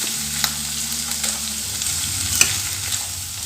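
Mixed vegetables and onion fry in a pan for dal rice while a utensil stirs them through, with soft scraping strokes over a continuous sizzle and a low hum, and no one speaking.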